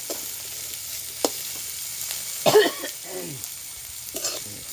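Garlic cloves and green chillies sauté in a pan for an okra dish, a steady light sizzle under a few utensil clinks and a short cough, with no speech.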